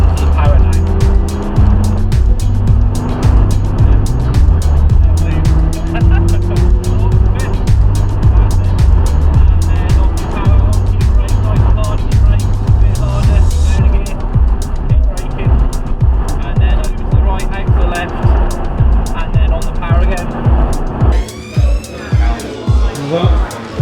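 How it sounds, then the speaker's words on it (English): A Formula 4 race car engine driving on track, loud and continuous with rising and falling revs and gear changes, up close throughout with chatter over it. "I want to feel like Lewis Hamilton driving an F4 car."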